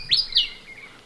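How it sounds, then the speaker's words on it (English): A willie wagtail, a fantail songbird, gives two quick, bright, sweet chirps close by, followed by a fainter trailing note against a quiet outdoor background. "The woolly wagtail, a beautiful songbird in its own right."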